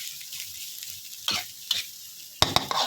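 Sweet preserved radish being stir-fried, a soft sizzle broken by several sharp spatula scrapes and clacks against the pan, the last two close together near the end; no one speaks.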